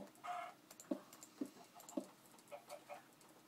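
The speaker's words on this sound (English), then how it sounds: "A chicken." A chicken in the Minecraft video game clucks several times in short, evenly spaced bursts, moderately close and fairly soft, with no talking over it.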